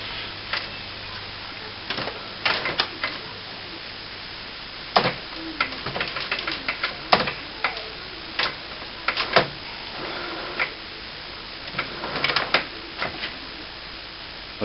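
A series of mechanical clicks, ticks and whirring bursts from an HP Photosmart inkjet printer as its carriage moves across, irregular and close, with quiet gaps between them and no talking.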